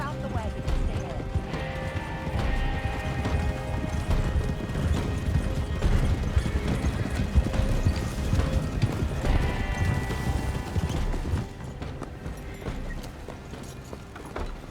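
Horse-drawn wagon in the Red Dead Online game rolls along with steady hoof clip-clops, creaking mechanical rattles and an occasional whinny, mixed with game music and character talk.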